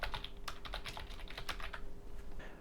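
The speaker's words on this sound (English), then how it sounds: "I'd type in the carrier name and I'd type the ILS channel in." Computer keyboard typing while entering a carrier name and ILS channel for an F-14 landing in a flight simulator: a quick run of light, close key clicks lasting about two seconds, then quiet, with no talking.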